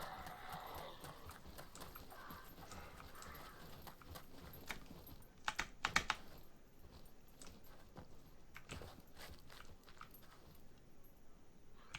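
Footsteps in the survival game SCUM, a run of rhythmic thuds and scuffs with a few sharper clacks midway, moderately close over a faint, steady background.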